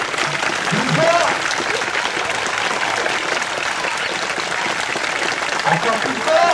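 Spectators at a dog demonstration in Gramat keep clapping hard, a continuous, fairly loud wash of applause with scattered voices and shouts over it.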